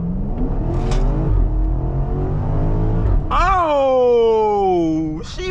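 BMW X5M engine with an aftermarket exhaust revving in Sport Plus mode, a close deep growl that climbs, drops and then surges sharply upward, with someone talking over the start.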